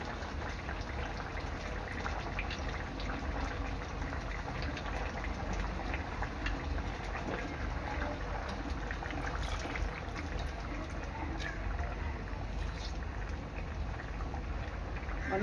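Crab masala with tamarind bubbles uncovered in a pot, a steady dense simmering and gurgling that continues evenly throughout, close and moderately loud.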